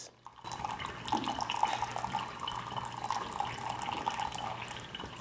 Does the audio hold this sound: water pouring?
yes